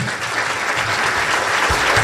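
A city government audience bursts into steady, dense applause welcoming the Pasco mayor, clapping continuously at close range.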